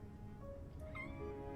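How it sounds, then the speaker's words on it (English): A young male kitten gives a couple of short, clear meows close by over a low background hum. "This is my cat."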